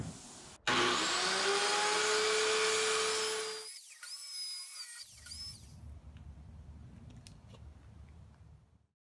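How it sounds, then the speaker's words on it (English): Power tool cutting storage cubbies into a 3/4 inch plywood box for an overland kitchen build, a loud steady whine for about three seconds that winds down, followed by quieter low rumbling handling noise. "I've finished cutting in the storage cubbies"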